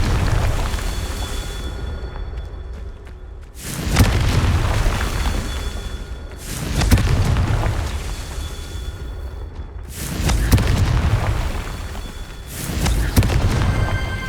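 Deep, rumbling Confringo spell explosions from the Hogwarts Legacy video game go off one after another, about five loud booms spaced a few seconds apart, each with a long decaying tail.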